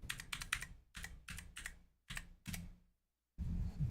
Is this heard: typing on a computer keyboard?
yes